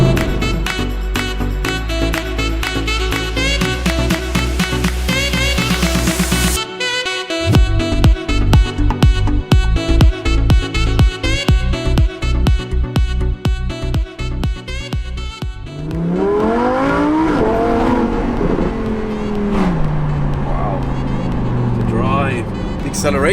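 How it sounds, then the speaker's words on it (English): A Lamborghini Huracán Performante V10 engine revs hard while driving, loud and close, with rapid pulsing firing, rising and falling pitch through gear changes and downshift crackles, and a voice talking over it near the end. "even when you're in a low rev and you downshift in this car, it still makes noise"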